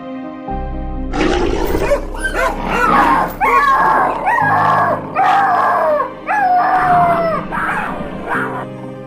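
A dog howls and yelps in distress during a leopard attack, captured by a surveillance camera, with continuous loud, wavering cries and rough growling noise lasting several seconds.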